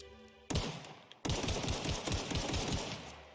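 Prototype pistol in The Outer Worlds firing in rapid bursts, loud close cracking shots in quick succession, a short burst then a longer continuous string of rattling fire.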